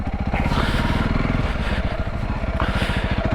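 A motorbike engine thrums close and loud, pulsing steadily as it rides along a muddy fen track, with brief rises in revs and no voice.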